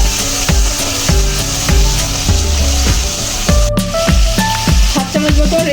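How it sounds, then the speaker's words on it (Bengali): Spice paste with grated tomato and salt sizzles in mustard oil in a pan for veg biryani, with a steady fry and repeated wooden scraping strokes of stirring. "মশলাটা আমি কষিয়ে নেব।"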